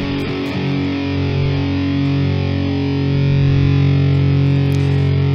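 A thick, heavily distorted electric guitar chord through two combined cabinet impulse responses rings out loud and sustained, with a full, boxy amp-cabinet tone and no talking.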